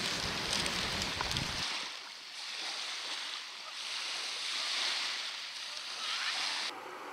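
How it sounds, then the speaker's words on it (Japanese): Rain falls steadily on a road, a dense hiss that swells and eases in waves, with a low rumble at the start and fairly close. "雨が降り出した。"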